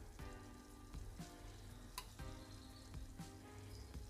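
A green lentil dish sizzles in oil in a pan, a close, steady crackling fry with small pops throughout and no voices.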